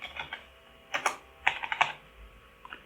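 Code is typed on a computer keyboard in a quiet room: soft, close keystrokes land in a few short clusters separated by pauses.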